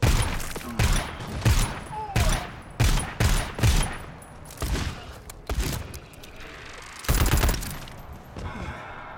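Bursts of automatic gunfire crackle through a Rainbow Six Siege round, several sharp volleys in quick succession with short gaps, loud and near, then fading into scattered distant shots.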